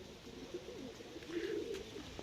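Soft, low pigeon cooing in a few short murmuring phrases, faint and somewhat distant against a quiet background hiss.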